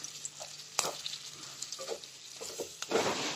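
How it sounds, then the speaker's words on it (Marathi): Jowar (sorghum) flour dry-roasting in a pan with green chilies gives a soft, steady sizzle and patter, broken by a few sharper ticks and scrapes of stirring. There is no talk. "आणि हे बघा, पीठ भाजून घेते."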